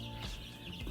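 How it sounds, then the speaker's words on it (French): Newly arrived chicks in a brooder under a heat lamp cheep faintly in a short burst over a steady background hum. "des poussins qui viennent du coup d'arriver dans l'éleveuse"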